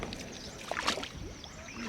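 A paddle dips and sloshes through water as a rowboat moves through a narrow tunnel in Tam Coc, Vietnam, with a few soft strokes and gurgles heard close and fairly quiet.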